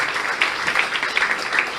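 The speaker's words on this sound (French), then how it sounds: "Je pense qu'on peut commencer par l'applaudir et par l'applaudir avec elle l'ensemble de l'équipe" A crowd applauds at a community gathering, producing a continuous, even wash of many hands clapping at moderate distance, sustained throughout without a break.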